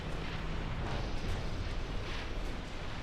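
Torpedo hits on warships in the naval strategy game Ultimate Admiral Dreadnoughts, a continuous loud rumbling roar of heavy explosions layered over each other with no pauses for the full stretch.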